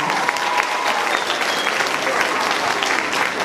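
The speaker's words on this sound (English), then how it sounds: "Give her a round of applause." A school audience at a 6th grade promotion and trimester awards ceremony claps steadily for the board president, a dense, continuous wash of applause from a sizable crowd, with no talk over it.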